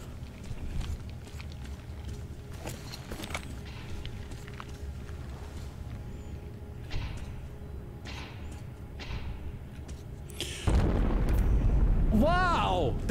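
A sudden heavy boom erupts in Metro Exodus, a loud low rumble that holds over the last few seconds after quieter footsteps and ambient game sound, with a voice talking.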